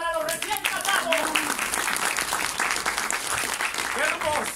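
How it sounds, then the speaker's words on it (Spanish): An audience at a theatre festival applauds a mock wedding's newlyweds with loud, sustained clapping, mixed with cheering voices and excited shouts throughout. "¡Aplausos para los recién casados!"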